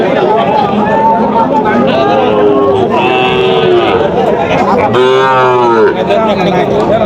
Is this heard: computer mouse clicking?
no